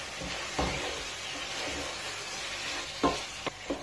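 Yogurt is stirred into chicken karahi in a hot pan, giving a continuous hissing sizzle with a few sharp spoon scrapes and taps near the end, close and fairly quiet.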